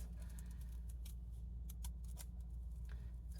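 Faint, quick snips of scissors cutting paper for a paper snowflake, several light crisp clicks scattered over a low steady hum.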